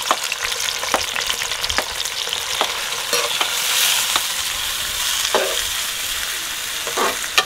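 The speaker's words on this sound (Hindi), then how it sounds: "घी हमारा माशाल्लाह से गर्म हो गया ऑयल, इसमें डालेंगे हम प्याज।" Onions frying in hot ghee and oil for village matar keema, a loud, dense sizzle with regular scraping taps of a spoon stirring against the pot, close and continuous.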